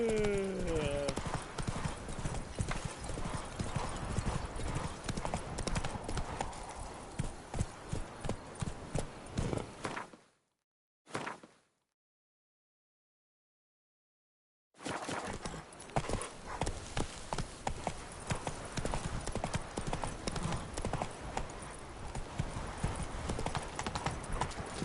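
Roach, Geralt's horse in the video game The Witcher, trotting with steady, rhythmic clip-clopping hooves. A brief silent gap interrupts the hoofbeats midway, and a voice is heard at the start.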